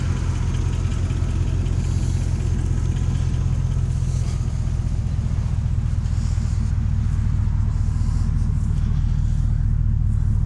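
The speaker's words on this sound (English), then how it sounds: "You can hear the engine there." A 2004 Chevrolet 2500HD 6.0-litre gasoline truck engine with 195,000 miles runs steadily at idle, a loud continuous low rumble close by with no other sounds.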